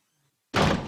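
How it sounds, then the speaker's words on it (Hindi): Outside door of a house shut in a Pakistani TV drama, a single loud, close thud that breaks sudden silence. "जाते हुए बाहर का दरवाजा बंद कर दियो।"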